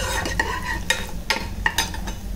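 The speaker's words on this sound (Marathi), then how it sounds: "आता कांदा जरा लाल होऊ दे।" Onions frying in a pan for a Malvani fish curry, a steady close sizzle broken by several sharp scraping stirs of a spoon against the pan, with no talking.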